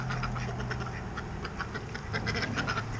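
Ducks, including a drake, dark brown with blue and white stripes on their wings, quack continuously in a busy overlapping chorus over a steady low background hum, moderately near.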